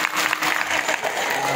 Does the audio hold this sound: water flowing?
no